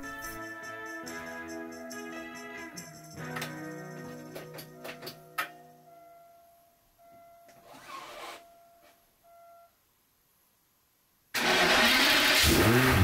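After cooling system repair, an Aston Martin DB7 engine is cranked and started. Mechanical tones and clicks come first, then a quiet pause, and finally the engine catches and runs loudly near the end.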